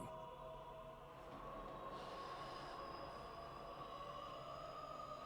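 A train rolls along the rails in the Death Note anime, a steady close rumble with faint squealing wheels and a sustained high metallic whine throughout, no voices.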